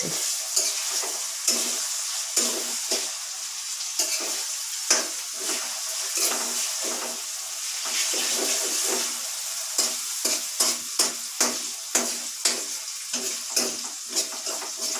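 Spices crackle and sizzle in hot oil with sharp popping bursts, tempering for a roasted eggplant dish, stirring clatter mixed in, steady and close with no voices.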